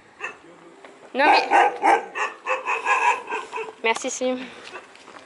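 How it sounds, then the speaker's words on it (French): Dogs on a night street in Thailand bark and yip repeatedly in close, loud bursts, with someone speaking French over and between the barks. "Non mais ils me font peur les chiens là."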